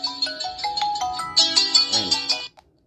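A Glory Fit smartwatch plays a loud, bright electronic ringtone for an incoming Bluetooth call, a quick melodic run of beeping tones repeating for about two and a half seconds before cutting off abruptly.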